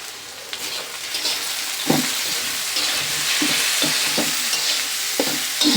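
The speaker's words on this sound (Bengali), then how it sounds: "ভালো করে নাড়ি করে মিশিয়ে নেব।" Spiced bottle gourd peel fry with turmeric, coriander and chili powders is stirred in a hot pan: a loud continuous sizzle with repeated scraping strokes of the spoon at an irregular rhythm, close up and without voices.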